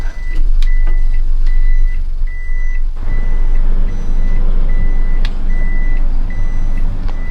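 A Daihatsu Mira being parked, its reversing beeper sounding as evenly spaced electronic beeps over a steady low engine and road rumble.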